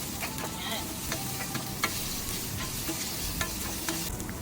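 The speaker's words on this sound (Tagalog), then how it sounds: "magpiprito tayo ng patatas" Potatoes frying in cooking oil in a pan give a steady, close crackling sizzle with occasional louder pops and spatters, continuous from start to finish, with no talking.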